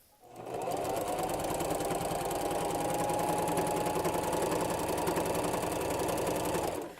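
A sewing machine quilts a small fabric mug rug in one steady, fairly loud run of rapid needle strokes, starting about half a second in and stopping cleanly just before the end.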